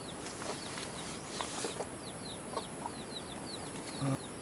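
Rhode Island Red chickens make soft, repeated chirping peeps and clucks nearby over a faint background hum, with a brief knock near the end.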